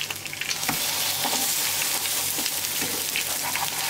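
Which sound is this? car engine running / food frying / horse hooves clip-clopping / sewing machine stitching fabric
food frying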